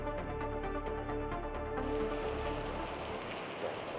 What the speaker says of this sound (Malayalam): ഇന്ന് രാവിലെ മുതൽ തന്നെ കോഴിക്കോട് ഉൾപ്പെടെയുള്ള ജില്ലകളിലെ മലയോര മേഖലകളിൽ ഇടവിട്ട് കനത്ത മഴ തുടരുകയാണ്.